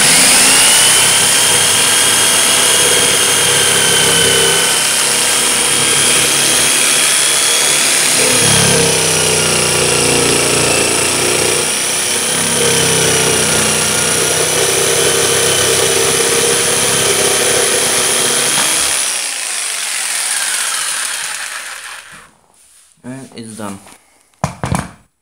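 A jigsaw cutting melamine wood runs steadily for about twenty seconds with a harsh, whining buzz, then stops, followed by a few scattered clunks and knocks.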